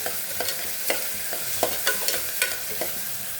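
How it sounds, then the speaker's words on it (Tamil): Chopped onions sautéing in hot oil for a country chicken curry, a steady sizzle broken by soft, irregular scrapes and stirs of a spoon in the pan. "அதை இப்போது எண்ணெயில் சேர்த்துக்கலாம் சேர்த்துட்டு நல்லா வதக்கி விடுங்க"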